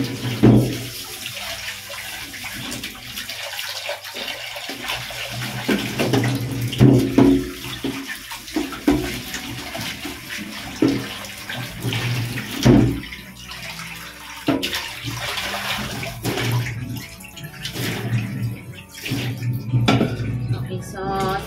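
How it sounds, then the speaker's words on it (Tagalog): A cooking pan being washed under a running tap, with water splashing steadily and metal clanks and scrapes of the pan against the sink, close and fairly loud, with brief talk now and then. "Ibasan ko muna itong aking paglulutuan."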